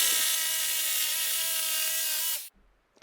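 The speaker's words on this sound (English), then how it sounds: "began cutting it with a jigsaw" A jigsaw cuts through a block of cedar wood with a loud, steady, high-pitched whine that stops abruptly after about two and a half seconds, leaving near silence.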